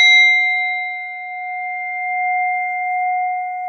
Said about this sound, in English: The singing bowl, actually. That's my meditation bowl.